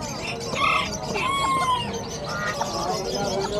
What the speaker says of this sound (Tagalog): Dami rin manok, oh.